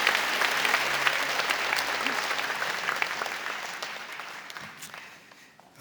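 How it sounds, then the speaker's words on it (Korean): A congregation at a Sunday church service applauds, loud sustained clapping from many hands that slowly fades toward the end. "큰 박수로 환영하시지요."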